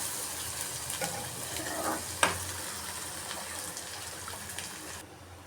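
Onions, chillies and curry leaves deep-fry in oil, giving a soft, steady sizzle with occasional stirring clinks, close but fairly quiet.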